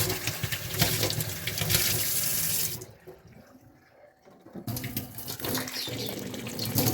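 Tap water runs loudly into a sink while a vessel is washed, a steady close rush that drops away briefly in the middle, then resumes at full strength.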